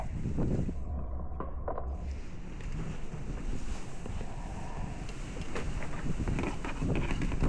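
Strong wind buffets the microphone on a mountain road while riding a Suzuki Burgman Street scooter downhill, a steady loud roar throughout with no speech.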